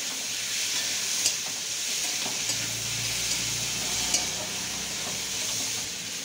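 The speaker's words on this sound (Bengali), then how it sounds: "তো এইগুলোকে ভালো করে নাড়াচাড়া করে নিতে হবে একটুখানি" Chilli, tomato, onion and capsicum are stirred in a hot pan, giving a steady broad sizzle with occasional soft scrapes and taps of the spoon, close and even throughout.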